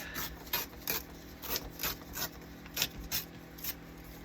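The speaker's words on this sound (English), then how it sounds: "I'm going to tear that off." A sheet of paper torn off by hand while assembling a junk journal from a cake mix box, a string of short ripping bursts with brief pauses, close and without talk.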